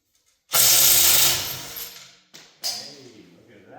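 A DeWalt power tool bites into a wheel lug nut with a loud, close whirring burst lasting about a second that fades, then two shorter spurts follow, each decaying quickly.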